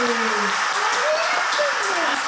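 Young children at a Turkish kindergarten clap together in a dense, steady patter, with an adult's sliding, sing-song voice talking over the applause throughout.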